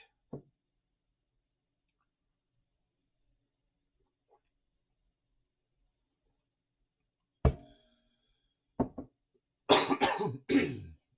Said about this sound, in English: I'm sorry about the cough.